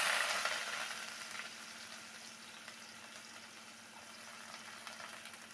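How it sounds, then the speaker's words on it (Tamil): Bay leaf, cinnamon, cloves and star anise frying in hot oil, a soft continuous sizzle that starts a little louder and settles into a faint, even crackle. "எண்ணெய் சூடானதும் ஒரு பிரியாணி இலை, பட்டை, கிராம்பு, அன்னாச்சி பூ சேர்த்துக்கிறேங்க."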